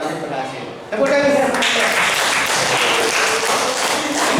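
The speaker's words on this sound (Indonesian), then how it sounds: "Tepuk tangan." Students clapping their hands together in a classroom, a burst of dense applause that starts after a brief moment of voices and continues steadily.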